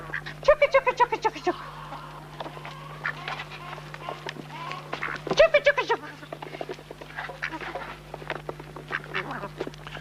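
Free-roaming hens and geese on a Fermanagh farm, with repeated quacking and honking calls in bursts, loudest near the start and again around five seconds, set against a steady low hum while a voice talks over them.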